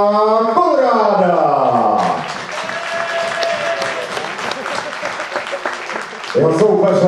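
A crowd at a VFC2 fight night in Ostrava roars with broad, sustained applause as a fighter is welcomed into the blue corner. The clapping and cheering swell for several seconds between an announcer's amplified calls.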